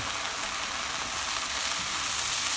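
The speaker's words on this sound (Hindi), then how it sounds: "मैंने घी डाला है इसलिए थोड़ा फैना फैना हो रहा है" Whole spices (cardamom, cumin seeds, cloves, cinnamon pieces and bay leaf) fry in foaming ghee, making a continuous, close, loud crackling sizzle.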